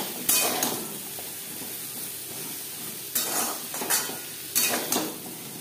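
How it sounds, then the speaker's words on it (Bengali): Pointed gourd (potol) fries in a pan over a low to medium gas flame, a steady soft sizzle broken by several loud scraping stirs of a utensil against the pan. "4-5 মিনিট পটল ভেজে নেওয়ার পর দিয়ে দেবো আলু। এতে পটলটা বেশ ভালো করে ভাজা হয়ে যাবে।"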